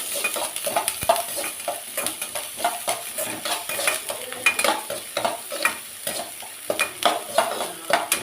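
Okra and onion fry in oil in a pan, a close sizzle broken by quick rhythmic scrapes and taps of a metal spoon as the mix is stirred repeatedly; no talking.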